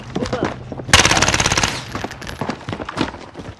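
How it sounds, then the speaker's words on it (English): Video game shooter gunfire, a loud sustained automatic burst lasting nearly a second, with scattered quieter shots before and after and game ambience throughout. "Where are they shooting me from?"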